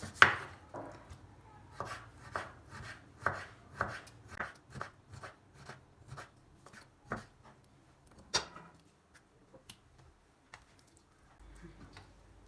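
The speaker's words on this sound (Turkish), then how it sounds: "Şu anda yağsız bir şekilde doğruyorum" Steady knife chopping of kidneys on a board, quick regular strokes close by, then a few slower isolated cuts before it trails off.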